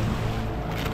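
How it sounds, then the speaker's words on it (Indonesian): Big sea waves roll and crash around a small fishing boat out on rough water while slow-pitch jigging for skipjack tuna, a loud, continuous wash of water and wind noise with no break. "Ombak gelombang besar, guys. Gelombang besar"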